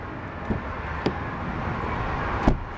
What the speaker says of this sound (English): A nice big solid thunk from the door.